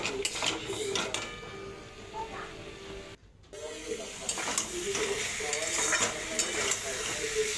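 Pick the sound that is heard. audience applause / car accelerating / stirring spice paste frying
stirring spice paste frying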